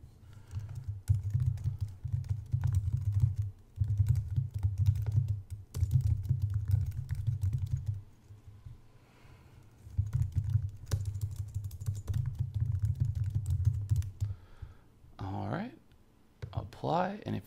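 Rapid clicking keystrokes come from a computer keyboard as text is typed into a website editor, in steady bursts with short pauses and someone talking over parts of it.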